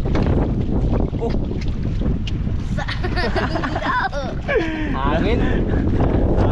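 Strong wind batters the microphone in a steady, loud roar outdoors near water, with people talking over it and other sounds mixed in.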